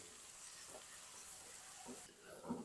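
Garlic and green chili fry in a pan with oil, giving a quiet, steady sizzle with a few soft stirring scrapes, faint and close.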